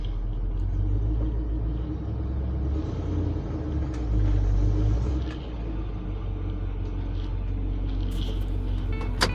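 An old Hudson Hornet or Mercury Comet engine rumbles steadily and loud from inside the car while driving, a low continuous drone with small swells, no talk.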